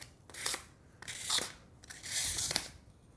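A worn, dinged Kore knife makes three short, faint scraping cuts, each a crisp rasping slice separated by brief pauses, close by and with no talking.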